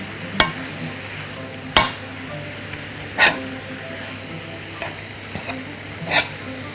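Minced meat and greens fry in a pan with a steady sizzle, broken by about five sharp metal clanks of a utensil stirring and scraping at irregular intervals, close and with no talking.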